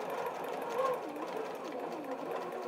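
A quilting sewing machine travel-stitches along a feather design on a hoop frame, running steadily and continuously at moderate volume with a softly rising and falling motor whine, no one talking over it.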